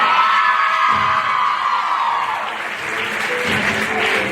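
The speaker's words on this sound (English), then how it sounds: "Let's get a big round of applause for Angie Budman" A high school audience at the Mr Hoosac 2022 pageant claps and cheers as a contestant walks out, thick sustained applause laced with whoops and shouts, loud and close, easing slightly midway.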